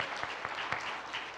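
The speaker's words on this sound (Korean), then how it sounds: "박수로 다시 한번 격하게 축복해 주시기 바랍니다." A church congregation at an Easter service in Gwangju, Korea claps together in steady, moderately loud applause that fills the room.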